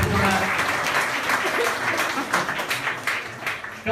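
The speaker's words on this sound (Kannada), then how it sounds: "ಚಪ್ಪಾಳೆ ದೇವರಿಗೆ" A church congregation breaks into applause, a dense patter of many hands clapping together that swells and fades over a few seconds, with voices mixed in.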